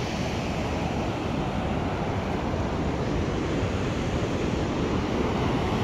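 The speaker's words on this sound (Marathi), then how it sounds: "हे असा आमच्या हिंगोलीचा धबधबा आहे बघा." High-pressure water pours steadily over the Parola waterfall in Hingoli, a dense, unbroken rush filling the whole scene with no voices.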